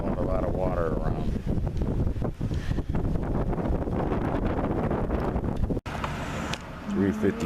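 Strong wind blowing a lot of water around buffets the microphone in rough, continuous gusts with a watery rush underneath, and a voice is heard briefly toward the end.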